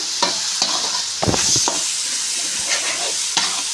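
Stirring strokes scrape through a coconut-and-salt spice paste frying in a pan, several distinct scrapes and knocks spaced over a continuous steady sizzle and hiss, with no speech.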